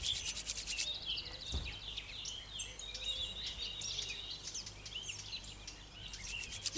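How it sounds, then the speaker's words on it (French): Palms rubbed together vigorously during a Qi Gong self-massage, a steady broadband friction hiss running almost the whole time, close and moderately loud, with faint birdsong chirping in the background. "On frotte bien les mains pour accumuler l'énergie"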